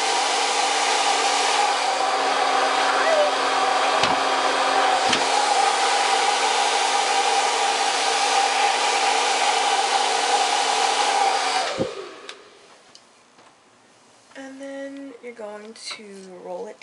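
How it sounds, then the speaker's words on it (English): A hair dryer blowing out hair runs loud and steady at close range for about twelve seconds, then cuts off, followed by quieter sounds afterward. "Now I'm going to go on back and just pull the hair directly forward and blow it out."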